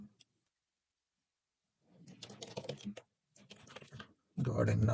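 Password typed on a computer keyboard, a quiet close-up clatter of keystrokes in two short bursts after a silent pause, ending as a voice begins speaking.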